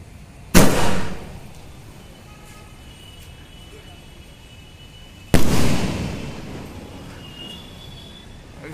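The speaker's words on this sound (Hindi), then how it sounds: "देखते हैं कैसा होता है ये वाला स्काई शॉट" Two sharp sky shot firework bursts, each launched with a loud crack followed by a fading rumble, several seconds apart.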